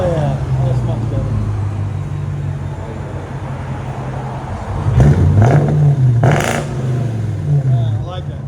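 Muffler-deleted supercharged 4.2-litre V8 of a 2007 Jaguar XK-R rumbles steadily at close range, then swells into a short rev with a rising and falling exhaust note, and a voice talks over the engine.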